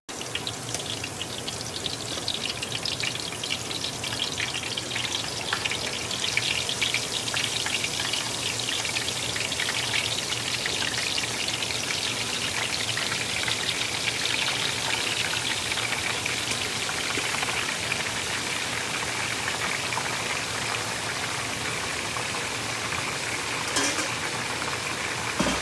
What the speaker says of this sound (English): I have my chicken wings inside the pot and it's frying.